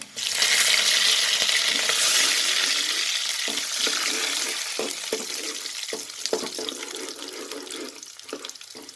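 Urad dal, chana dal and curry leaves hit hot oil in a pan, setting off a loud rushing sizzle that gradually settles into steady frying, with scattered light clicks from stirring.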